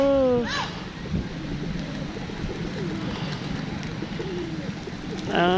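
A flock of many pigeons coos steadily in a town plaza in Valencia, Negros Oriental, with low overlapping calls, light wind and brief voices near the start and end.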